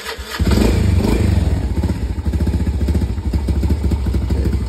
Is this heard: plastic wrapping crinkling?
no